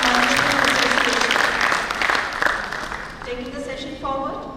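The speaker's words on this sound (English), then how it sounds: "That indeed calls for a huge round of applause for Inaugural Management Association." Audience applause at a national convention's inaugural session for a management association, a hearty round of clapping that fades toward the end as a voice and a sustained tone come in.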